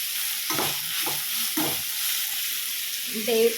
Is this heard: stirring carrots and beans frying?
yes